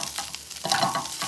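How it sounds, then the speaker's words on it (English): Turkey hash with vegetables stirred in a pan, scraping strokes over a soft sizzle, close and brief. "Mix in the rest of the vegetables with the turkey"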